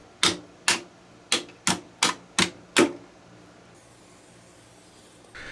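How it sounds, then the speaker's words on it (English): Hammer striking a front vent slot on a Hangar 9 20cc Brave model airplane: seven sharp, evenly spaced taps over about three seconds, close and loud, followed by quiet. "It's hammer time on a front vent slot."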